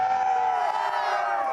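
Crowd at a pep rally on Universal CityWalk, a sustained loud roar of cheering and whooping voices, close and continuous.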